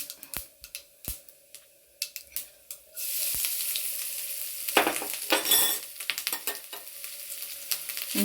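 Grated coconut hits hot oil with popped mustard seeds, the pan bursting into a loud continuous sizzle after a few sharp crackles and taps, with scraping stirs running through it.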